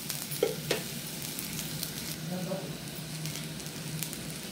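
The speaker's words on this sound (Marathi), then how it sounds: "सुकं खोबरं आहे वाटणसाठी, ते पण टाकू आणि त्यालाही आपण चांगलं भाजून घेणार आहे" Dried coconut pieces roasting in a pan for a misal masala paste, giving a steady soft sizzle with occasional scraping stirs, close and moderately quiet, no talking.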